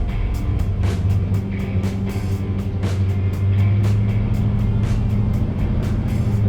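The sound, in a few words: 1971 Ford Torino Cobra with 429 Ford engine driving off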